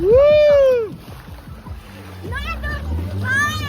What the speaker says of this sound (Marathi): चला आता पाण्यात मस्त एन्जॉय करायला उडी टाकतोय थंड पाणी आहे